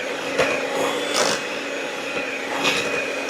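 An electric mixer whipping heavy cream toward butter, a constant motor whine with a few rhythmic scraping swells as the beaters turn, close and steady.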